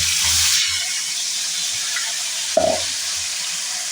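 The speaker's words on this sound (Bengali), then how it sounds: "এবার আমরা সবজিগুলো দিয়ে দিলাম আলু বেগুন আর কুমড়ো" Potato, eggplant and pumpkin drop into hot oil seasoned with panch phoron, setting off a steady, close sizzle that fizzes throughout, with a brief sharp clatter near the end.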